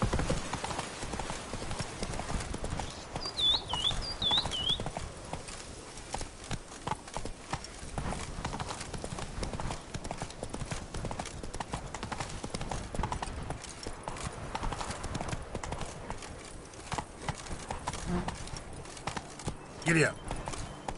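Horse hooves clip-clop in a steady galloping rhythm from The Witcher 3 Blood and Wine, with a voice urging the horse on over the hoofbeats.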